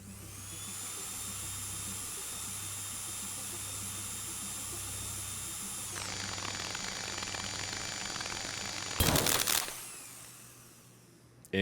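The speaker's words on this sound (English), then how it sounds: "When ready, trigger sync master as normal to begin drill insertion" A lab drill in the video game Stories Untold whines with a steady high-pitched mechanical tone that shifts pitch midway, then a loud harsh burst near the end before fading, with no talk over it.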